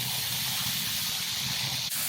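Sausage sizzling on a Blackstone griddle, a steady loud hiss and crackle of frying fat that runs without a break.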